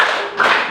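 A classroom group claps together in a rhythmic clap pattern, a brief loud burst of hands striking in unison with a small accent partway through.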